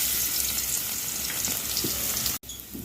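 Oil sizzling and crackling in a pan as garlic fries, a steady close hiss with small pops, briefly interrupted near the end.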